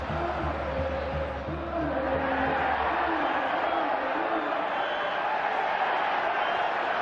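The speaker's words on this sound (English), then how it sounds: "Crowd wanting a free kick against Busquets." Football stadium crowd at a Real Madrid vs Barcelona La Liga match rising in a loud, sustained roar appealing for a free kick, a broad swelling wash of voices with a commentator talking faintly underneath.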